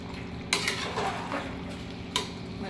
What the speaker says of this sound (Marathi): मंद आचेवर ठेवलेलं खालवर करत राहायचं, परत झाकून द्यायचं।